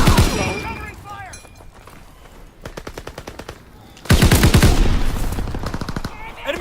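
Machine-gun bursts ring out in Call of Duty WWII Domination multiplayer. Rapid automatic fire comes in short volleys, with a louder, closer sustained burst in the second half and game voices underneath.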